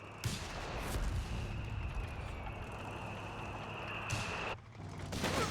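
Dense battle din from Company of Heroes 3, with rolling gunfire and mortar blasts. The sound is a loud, continuous roar of shots and explosions, and a brief dip near the end is followed by more firing.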